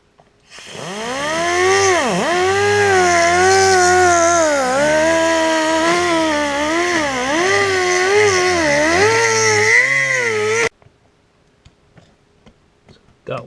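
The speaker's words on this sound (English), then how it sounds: "So onto the die grinder." A die grinder cuts into a hardened roll pin on an X-4 torque multiplier tool, a loud continuous whining drone that wavers in pitch as it bears down for about ten seconds, then stops abruptly.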